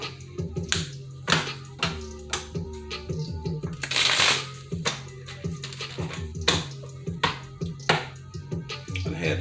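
Rider-Waite tarot cards shuffled by hand at close range, rapid riffles and crisp taps of the deck repeating in quick bursts, with one longer riffle in the middle.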